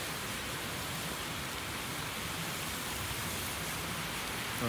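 Heavy rain pouring down steadily at a workplace, a dense, constant hiss with no breaks and no voices.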